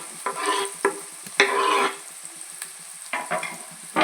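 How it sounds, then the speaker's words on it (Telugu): Onions and green chillies fry in hot oil in a cooking pot, giving a loud sizzle broken by repeated stirring scrapes and bursts, close up with no talking. "బాగా ఫ్రై చేసుకుందామండి."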